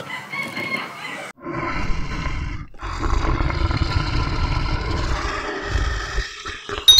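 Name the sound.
lion roaring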